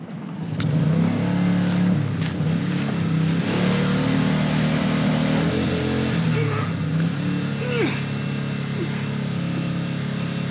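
A Hobart engine-driven welder mounted on a truck runs at a steady, droning idle, a continuous mid-pitched engine hum close by with no talking.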